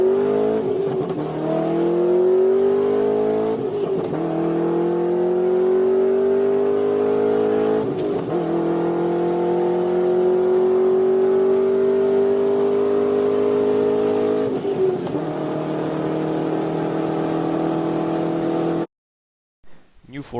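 Chevrolet LS7 V8 engine of a Corvette Z06 revving hard through several gear changes, a loud, close, climbing howl broken by brief shift dips, ending abruptly.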